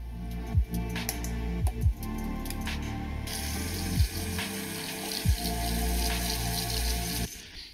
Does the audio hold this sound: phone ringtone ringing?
no